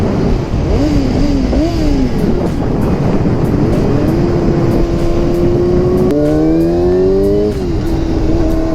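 A Yamaha R6 sport motorcycle engine revs loudly up and down, then holds a high steady whine with rising pitch sweeps, close and continuous.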